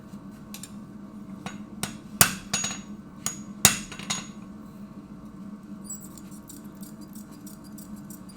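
Flat stock is hammered down into blacksmith tongs at a forge, giving a handful of sharp, irregular metallic blows, a few loud, over a low steady hum.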